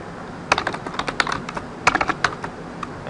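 Fingers typing on a computer keyboard, quick irregular clicks in two short bursts, close and clear with no talking.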